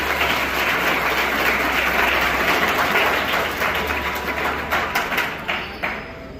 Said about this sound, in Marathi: प्राचार्य गुरगुरे सर व त्यांचे सर्व सहकार्यांसाठी जोरदार आपण टाळ्या वाजवल्या पाहिजे